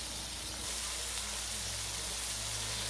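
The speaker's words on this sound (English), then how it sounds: "I'm going to be quiet for a minute so you can just hear that sizzle" Vegetables sizzling in olive oil in a skillet during a stir-fry: a steady, close, bright hiss with a low hum beneath, continuous and unbroken by talk.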